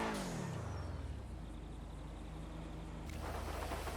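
Engine of a Schlagen GT car idling and revving on a rainy outing, a steady loud mechanical drone with a falling pitch sweep early on and a brief surge near the end, no voices.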